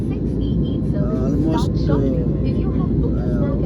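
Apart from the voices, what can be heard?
airplane cabin noise during climb, Chennai to Vizag flight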